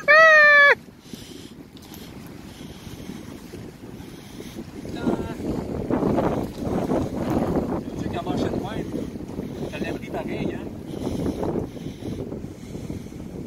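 Wind gusts buffet the microphone on a hammock trip on the Rivière du Poste, a steady rushing roar that swells and fades under brief distant voices after a short high tone at the start.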